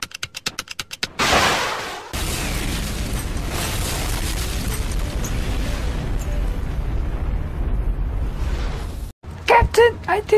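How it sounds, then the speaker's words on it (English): A missile explosion in the Resident Evil 6 video game lets out a loud, rumbling blast that roars for several seconds after quick clicking sounds, then cuts off before more short bursts. "Quick, use this missile to blow that up."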